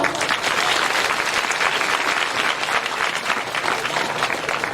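An audience at a Shrimad Bhagavat satsang discourse applauds in a dense, continuous wash of clapping that stays loud and even throughout, with no speech over it.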